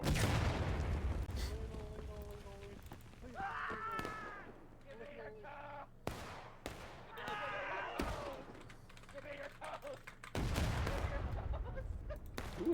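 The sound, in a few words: gunfire in Civil War video game War of Rights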